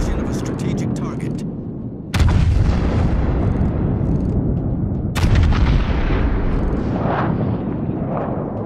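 Heavy naval guns booming from warships in World of Warships: Legends: two big, loud blasts with long rumbling tails over constant battle noise and voice chatter.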